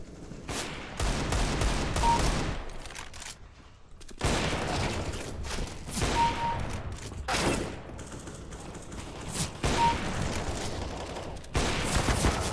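Gunfire from the video game CS:GO arrives as repeated loud bursts of rapid shots separated by brief pauses, dense and close throughout.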